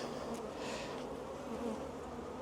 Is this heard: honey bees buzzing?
yes